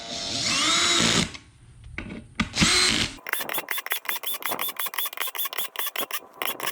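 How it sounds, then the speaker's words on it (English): A power drill with a clutch whirs in long bursts, then rapid short pulses as it drives beadlock wheel bolts, close and loud, with brief pauses between runs. "drill with that's got the clutch and go ahead and just zip all these things down real quick"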